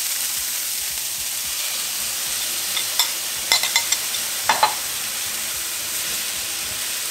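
Tofu scramble sizzles in a pan with a steady hiss, broken by a handful of sharp clicks and scrapes as a utensil stirs it.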